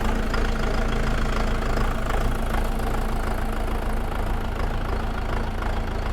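A KENTAVR 504 F mini tractor's diesel engine idles steadily and loudly while warming up, a continuous low rumble with an even knocking rhythm and no voices.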